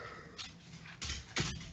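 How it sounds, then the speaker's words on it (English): A dog gives a few short, faint whimpers and yips spaced across a quiet background, heard alone without talk. "Dog."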